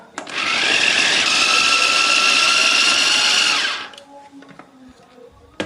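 An electric chopper grinds boiled green chilies with a loud, steady whir that runs for about three and a half seconds and then cuts off, leaving faint clatter.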